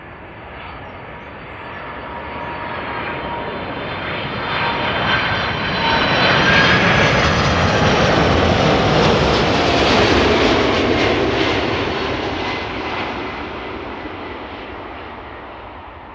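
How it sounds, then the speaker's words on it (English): An Atlas Air cargo plane arriving at Amsterdam Schiphol from Miami roars past, its engine noise building from a distant rumble to a loud sweeping peak before slowly fading, with no voices. "Atlas Air Flight 5528, arriving from Miami, Florida."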